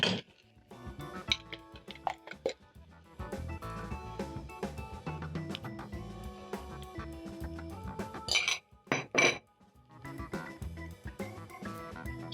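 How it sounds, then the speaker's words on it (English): Clinking of a utensil against a pan as eggs are stirred into sautéed eggplant and zucchini for an omelette, with irregular close taps and scraping over a busy kitchen background. "Stir in the eggs a little bit"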